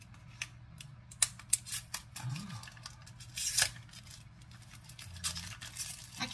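Scissors snipping and tearing through shrink wrap plastic on a packaged honey lip oil, a few sharp clicks and crinkly cuts at close range, sporadic and fairly quiet.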